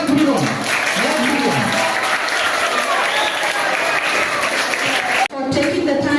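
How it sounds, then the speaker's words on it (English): An audience claps steadily and loudly at a school event featuring singing, rhyme, poster-drawing, essay and debate competitions. The dense, even applause drops out for a split second near the end, then resumes. "Kindly big round of applause for everyone."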